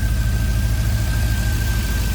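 A 6-liter V8 in a 1968 Chevrolet C10 resto-mod with aftermarket headers idles steadily nearby, a low, even rumble with a faint constant whine over it.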